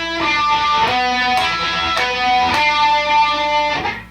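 An electric guitar plays part of a solo alone. Sustained notes include string bends, and several picked accents ring out clearly and loudly.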